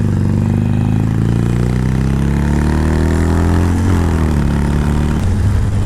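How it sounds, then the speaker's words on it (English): A used Harley-Davidson Iron 883 Sportster motorcycle revs up through its gears on a test ride, its loud, close engine note rising steadily and then dropping briefly at each of two quick shifts. "just doing my test ride, shifting through the gears real quick."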